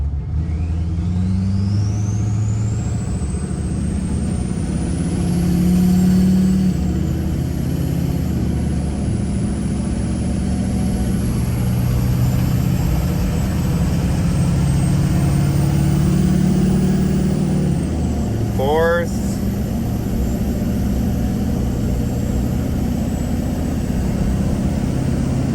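A pickup truck carrying a camper accelerates on the highway, a continuous engine drone with road and wind roar, the pitch climbing and shifting as gears change over a long stretch.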